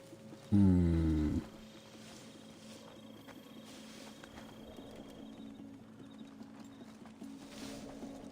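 Horses in the Assassin's Creed Odyssey video game give a loud, brief neigh up close, followed by soft hoof clops and a steady ambient hum from the game world, with no voices.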